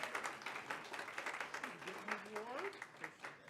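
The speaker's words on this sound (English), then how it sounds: "please give a round of applause for Miguel Ontiveros, CTA Props recipient for January 2026" At a school governing board meeting, the audience applauds for an award recipient with steady, fairly soft clapping while voices speak over it.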